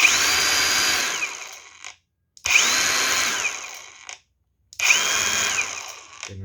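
Orion CAG 100 cordless angle grinder at its highest speed setting, whining up three times in short bursts, each spinning at a steady pitch before winding down into silence, close and loud with no talk.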